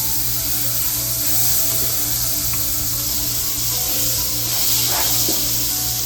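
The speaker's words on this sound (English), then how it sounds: "we want to evenly disperse the butter at first so that it gets nice and melted, just so it can kind of like coat and layer the pan" Butter melts and sizzles in a frying pan on the stove, a steady close hiss with faint crackles and small pops, no voices over it.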